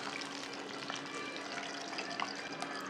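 Chips frying in hot oil alongside crispy fried chicken crackle in a quiet, steady sizzle with scattered pops throughout, heard up close with no talking.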